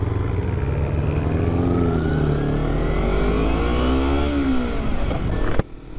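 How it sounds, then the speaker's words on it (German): A BMW and a Mercedes pull away at night, engines revving up through rising, sweeping gear tones for several seconds, loud and close, before cutting off abruptly. "Also der BMW und der Mercedes werden bestimmt ganz human jetzt anfahren."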